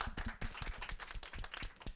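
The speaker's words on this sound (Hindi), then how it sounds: "सबसे पहले इन सभी के लिए तालियां लगाएं आप।" Audience at an antakshari singing competition breaks into clapping, a dense, close patter of many hands with irregular sharp claps and slight swells in loudness, no talk over it.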